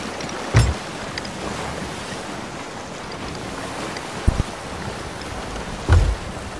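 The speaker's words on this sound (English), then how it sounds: "There's huge waves." Stormy ocean waves in the Sea of Thieves video game surge as a continuous broadband roar with wind, punctuated by a few brief heavy thumps like water slapping a boat hull.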